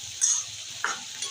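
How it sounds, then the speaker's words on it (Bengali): Spice paste with Kashmiri chilli powder sautés in released oil in a pan, a close bright sizzle broken by a few soft stirring scrapes, with no voices. "মশলাটা ভালো করে কষিয়ে নিচ্ছি বন্ধুরা, তেল ছেড়ে দিয়েছে।"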